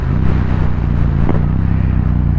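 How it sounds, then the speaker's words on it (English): A Yamaha XSR700 fitted with an Akrapovic carbon exhaust rumbles loudly while riding, a deep steady engine drone with a brief mechanical clatter midway, close and continuous without speech. "Exhaust is too loud."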